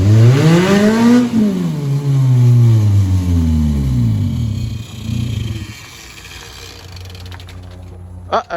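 A race car engine idles loudly and close, revving with rising and falling tones before winding down and shutting off, leaving near silence.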